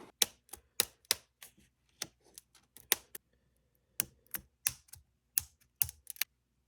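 A comic book is cut free from the inner well of a CGC graded plastic slab with a string of sharp, close snips and clicks in irregular bursts, some pauses between them, with no voices.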